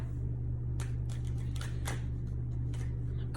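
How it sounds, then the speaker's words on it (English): Tarot cards are shuffled by hand in quick, crisp riffling bursts, close up over a constant low electrical hum, with no talking. "I'm just gonna keep shuffling until it feels right."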